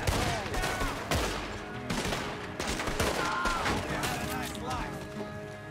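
Gunfire in the Red Dead Redemption 2 jailbreak shootout, with dense bursts of shots and repeated cracks ricocheting off a railing amid game noise, while people talk over it.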